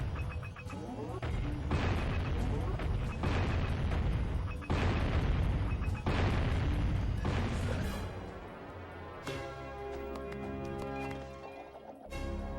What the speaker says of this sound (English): Okay, shoot the cannon.